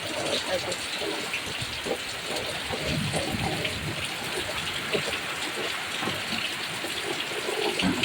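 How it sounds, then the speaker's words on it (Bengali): Heavy downpour of untimely rain with gusty wind beating on a small shop, a steady dense hiss of rainfall close by that holds at an even loudness for the whole stretch. "মুসুলধারে বৃষ্টি হচ্ছে তার মধ্যে ঝালকা হাওয়াও দিচ্ছে দেখো অসময়ের বৃষ্টি"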